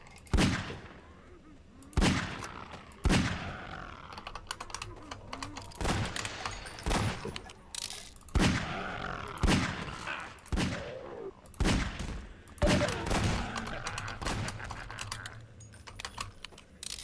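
Gunfire in the video game Half-Life 2, repeated sharp weapon shots in bursts spread over the stretch, mixed with busy keyboard clatter and a voice talking at times.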